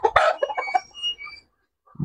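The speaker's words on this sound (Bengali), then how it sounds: "এগুলা মানে খুব দামি মুরগি আমি শখ করে রাখছি" Fighter chickens give a quick burst of close, loud clucks and a short crow-like call, then fall silent before another squawk starts at the end.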